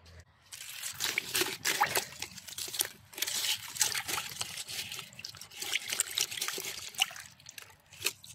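Water trickles and splashes close by in a steady, uneven flow with small drips, and nobody speaks.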